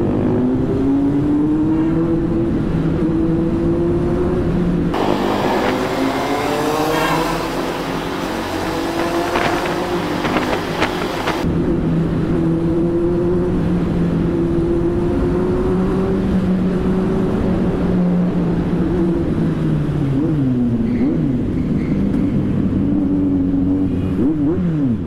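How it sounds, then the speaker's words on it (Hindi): A Kawasaki Z800 superbike engine roars inside a tunnel, loud and close, its droning pitch rising and falling through revs with strong echo, running continuously without talk. "अब आप लोग लो थोड़े से टनल में सुपर बाइक की साउंड के रिएक्शन।"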